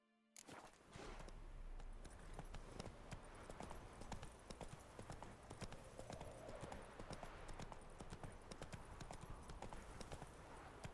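Hooves of Roach, Geralt's horse in The Witcher 3, clip-clop in a steady galloping rhythm across a battlefield, loud and continuous throughout, with faint game ambience beneath.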